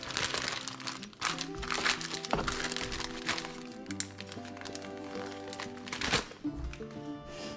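A plastic Ziploc bag crinkles and crackles up close in irregular bursts while ham is packed into it in a kitchen, with occasional thunks between the rustles.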